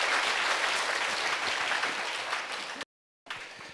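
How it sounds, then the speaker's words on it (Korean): Church congregation applauding during a Sunday worship service, a dense, full wash of clapping that gradually tapers off, then cuts out briefly before a short burst resumes. "박수로 주님께 영광 돌립니다"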